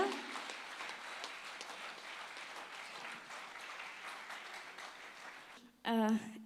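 A crowd at a stage event gives steady, full applause for several seconds, then it cuts off as a voice begins speaking close to the microphone.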